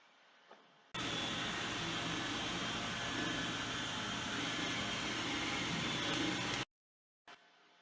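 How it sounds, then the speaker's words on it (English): A robot vacuum cleaner runs with a steady, loud whirring hiss that starts abruptly, holds evenly for several seconds, then cuts off sharply into near silence. "Just turn off the vacuum forever."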